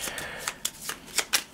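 Cards from This War of Mine board game being shuffled back into a deck by hand, a close sequence of several quick riffling bursts with short gaps, no talking.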